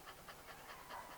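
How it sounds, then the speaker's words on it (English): Staffordshire bull terrier panting steadily up close, a quick rhythmic series of breathy huffs repeating about five times a second, with nothing else heard. "This is one of my dogs."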